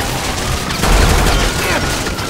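Shots ring out in LSPDFR, the GTA V police mod game, as a surge of close, heavy gunfire peaks near the middle, then eases into quieter scattered shooting beneath faint background game sound.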